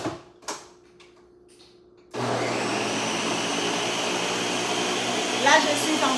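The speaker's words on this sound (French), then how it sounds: "je suis en train de broyer pour obtenir le jus que j'ai besoin" A blender grinds ingredients down to extract juice for a homemade remedy. Its steady, loud whir starts suddenly after about two seconds of near quiet with a few small knocks, then runs without a break to the end.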